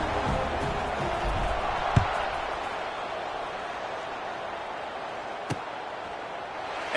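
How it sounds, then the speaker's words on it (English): A college football stadium crowd, JMU against Charlotte, buzzes after a touchdown before the kickoff: a constant distant roar of many voices, with two sharp knocks cutting through it. "this crowd is buzzing after that last score"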